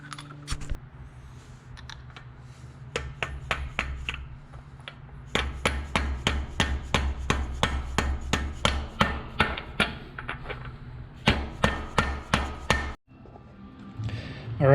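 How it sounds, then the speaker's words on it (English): A hammer strikes repeatedly while a TR6060 transmission is fitted to an LS engine, sharp close metallic taps in quick uneven bursts with short pauses between them. "And I will hammer in."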